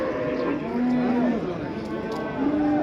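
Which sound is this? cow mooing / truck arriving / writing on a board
cow mooing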